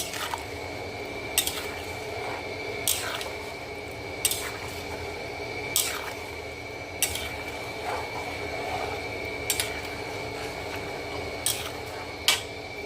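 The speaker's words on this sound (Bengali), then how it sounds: "এবার কিন্তু আমি ভালোভাবে নাড়াচাড়া করে নেব" Pulao rice being stirred in a pot, a soft wet squishing and scraping that recurs about every second and a half at close range over a steady low background hum.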